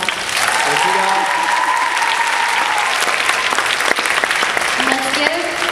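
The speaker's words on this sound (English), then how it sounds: "let's give everybody who is on stage, including us, a big round of applause" A big round of applause from the audience at a student Taste of Asia stage event, steady loud clapping throughout with faint background tones.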